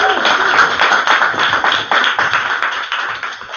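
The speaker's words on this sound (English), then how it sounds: "All the clapping is scary." Live podcast audience applauding for a food-themed show, a dense, loud wash of many hands clapping at once, steady and continuous throughout before easing slightly near the end.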